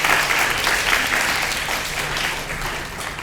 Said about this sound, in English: please give a round of applause for Professor Cassidy.